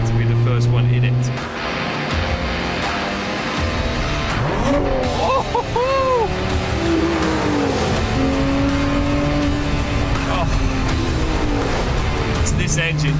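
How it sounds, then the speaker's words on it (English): A 2022 Lotus Emira sports car driving, engine sound rising and falling through gear changes with brief squeals, loud and close inside the cabin, while a voice talks over it. "This engine just roars."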